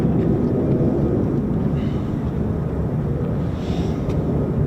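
F-15 fighter jets taking off at RAF Lakenheath, with F-35s spooling up, heard as a loud, continuous, distant roar of jet engines mixed with wind noise on the microphone.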